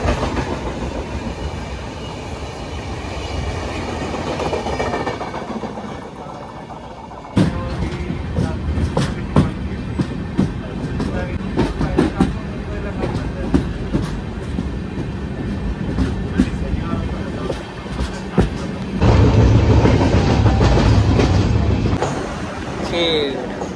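A train passes a level crossing on the Konkan railway near Khed during the monsoon, a continuous loud rumble with clattering wheels and rattling cars. Wind and outdoor noise are mixed in, and the sound grows louder and harsher toward the end.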